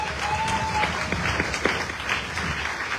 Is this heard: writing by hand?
no